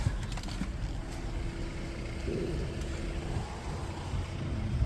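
Volvo XC60 2.0 T5 180 kW engine idling steadily on a PRINS LPG conversion, a low continuous hum with no revving, close and even throughout.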